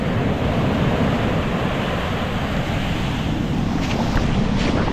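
Ocean surf rolls and breaks on a cold beach, a steady, loud wash of churning water with gusty wind buffeting the microphone throughout.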